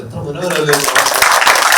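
An audience at a lecture breaks into applause, a burst of clapping that swells in under a speaker's voice and keeps going as he talks over it.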